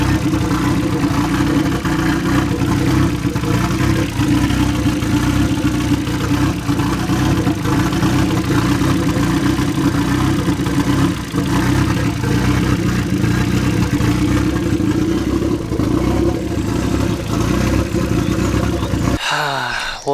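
A turbocharged Mazda MX5 engine runs roughly on its first start-up, a loud, continuous, uneven drone that holds steady for about nineteen seconds and then cuts off abruptly near the end.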